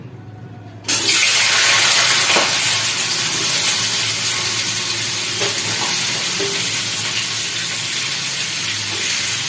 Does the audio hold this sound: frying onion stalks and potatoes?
yes